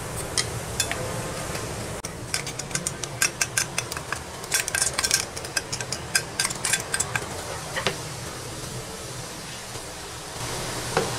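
A spoon stirs homemade hair oil in a pan over a low flame, giving irregular clinks and scrapes of metal against metal over a soft background hiss.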